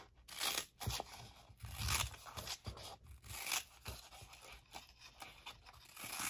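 French scissors snip and crunch through paper in a series of uneven cuts, close up and fairly quiet, with no speech.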